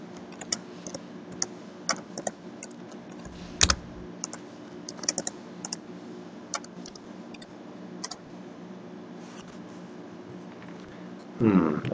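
Keys on a graphing calculator keypad are tapped in a light, irregular run of clicks while a function is entered, with a short louder clatter near the end.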